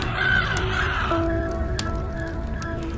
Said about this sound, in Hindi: पेड़ के इर्द गिर्द हवा में कौवे इकट्ठे होकर कांव कांव करने लगे